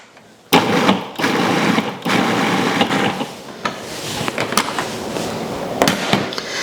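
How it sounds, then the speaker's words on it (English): A food processor pulses a jerk chicken marinade mix in a series of loud, abrupt bursts separated by brief pauses, chopping it into chunky pieces with clattering mechanical whirring. "So all of this mix then goes into the food processor. And I'm going to pulse it."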